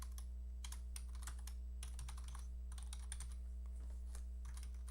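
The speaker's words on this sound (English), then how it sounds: "I'll type my username." Computer keyboard keys typed in quick irregular bursts while entering a username during a Windows Vista setup in VirtualBox, clicks close and clear over a steady low electrical hum.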